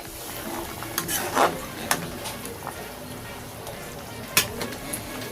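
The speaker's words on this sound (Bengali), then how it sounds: "আবারও একবার নেড়ে দিচ্ছি।" Mustard hilsa fish curry is stirred in a pan, a steady low simmer with soft scraping and a few sharp utensil clinks against the metal, one louder knock near the end, close by with no talking.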